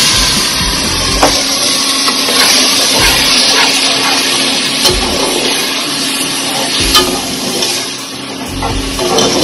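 White wine is poured over rice toasting in a pan, setting off a loud, steady broadband sizzle and hiss with scattered crackles and pops that run continuously for about nine seconds, close up, with no talking.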